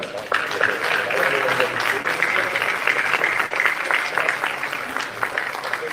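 A church congregation applauds its pastor at a special meeting, a loud, sustained wash of clapping that carries steadily to the end, with a few voices mixed in.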